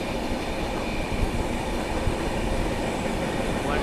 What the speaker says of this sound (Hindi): सामने से आ रही है train number 13006 Amritsar Howrah mail जो कि अपने टाइम से आ रही है